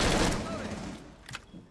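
Rapid bursts of video game gunfire ring out loudly at the start and fade, with a couple of fainter shots afterward, under a player's voice.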